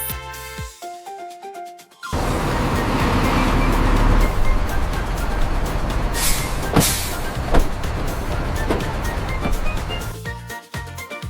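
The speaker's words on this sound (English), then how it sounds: "Double-decker bus." A double-decker bus pulling in with a loud, steady engine roar and road rumble, a few sharp hissing bursts like air brakes, and some tonal music before and after the vehicle noise.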